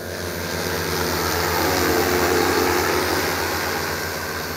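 An agricultural drone on a demonstration flight over farmland in Miyoshi, a steady loud buzzing drone of propellers and motors that holds constant, swelling slightly in the middle, with no voices.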